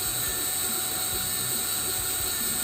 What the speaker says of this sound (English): Gonna drill out these posts and get them ready so you can tap the holes.